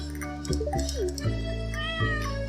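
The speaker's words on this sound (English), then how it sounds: "Cat! Cat! We got a cat!" Cat meowing in the farming video game Stardew Valley, several close, clear meows in quick succession over a steady musical background.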